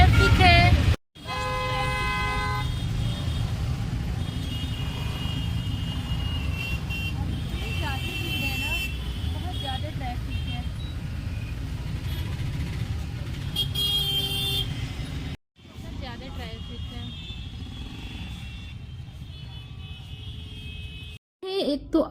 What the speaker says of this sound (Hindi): बाकी बहुत ज़्यादा आज ट्रैफिक है।